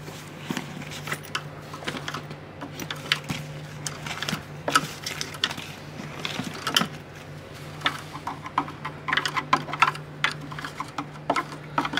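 A screwdriver pokes and scrapes inside the door latch of a GE dryer, giving many small, close clicks and rattling scratches in an uneven stream, with a steady low hum beneath.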